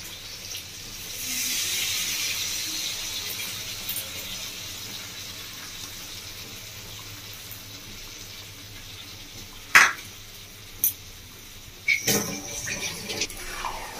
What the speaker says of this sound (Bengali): তো আমি এবার দিয়ে দিচ্ছি এই জলটা উপর থেকে।